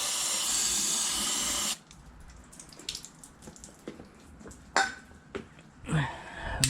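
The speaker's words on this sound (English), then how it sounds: "we're gonna follow that up with some compressed air" Compressed air blasts dust out of a C6 Corvette clutch in a loud, steady hiss for under two seconds, then cuts off, leaving quiet clicks, knocks and brief shuffling handling noises.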